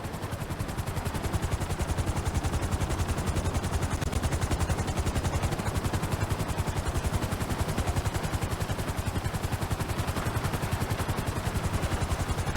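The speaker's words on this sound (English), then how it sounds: "Bring the helicopter down gently onto the helipad." Helicopter rotor in the video game GTA V as the aircraft sets down on a helipad, a fast steady chopping thrum held at even, moderate loudness throughout with no talk.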